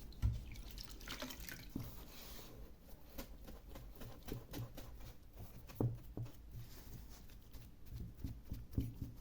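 Water drips and patters onto a scratch-built model bridge diorama in scattered, irregular drops, faint and close, with soft wet dabbing between them.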